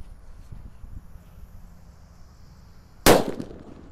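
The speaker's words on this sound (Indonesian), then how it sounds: "Selanjutnya kita nyalakan mercon petir guys." A mercon petir, a thunder-type firecracker, goes off in one sharp, loud bang after a stretch of quiet outdoor background, with a brief ringing tail.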